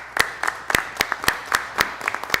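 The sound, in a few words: applause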